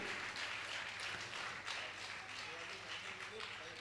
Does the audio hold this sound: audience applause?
yes